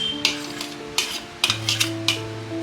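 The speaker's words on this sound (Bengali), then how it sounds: "আবার আমি ভালো করে পুরো জিনিসটাকে মাখিয়ে নিচ্ছি।" Mashed potato is stirred into dry-roasted semolina in a pan, with repeated scraping and clinking strokes of a spoon against the pan over a low steady hum, close by.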